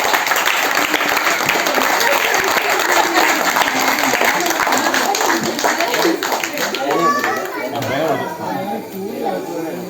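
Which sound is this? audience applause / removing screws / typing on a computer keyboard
audience applause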